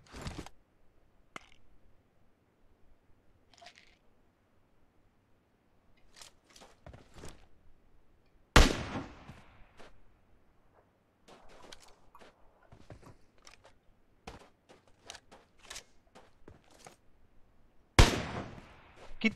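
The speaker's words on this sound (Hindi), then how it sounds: "भाई साहब पता नहीं कितना शॉट लगेगा तो मरेगा" Sparse gunshots in a video game, sharp isolated cracks separated by stretches of near silence, with a few louder blasts standing out and quieter clicks and thuds in between.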